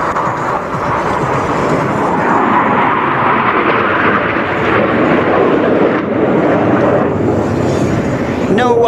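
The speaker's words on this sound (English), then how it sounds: "the aircraft swings through a series of rapid direction change at" A fighter jet's engine roars continuously and loudly during rapid direction changes at top speed at the NATO Days and Czech Air Force Days air show, with a commentator's voice under the din.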